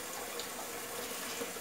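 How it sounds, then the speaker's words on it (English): Hot water runs steadily from a tap into a kitchen sink basin, a continuous close, even rushing hiss that fills the whole moment with no voices. "we have to put hot water in the sink or basin"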